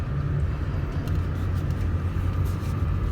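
A high-mileage 2004 Mercedes-Benz E320 W211 sedan drives on the road, its engine and road noise forming a steady low rumble heard from inside the cabin, with no talking.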